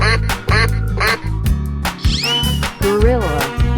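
Cartoon duck quacks in a 3D animal slide game, several loud nasal calls in quick succession over a pulsing game soundtrack.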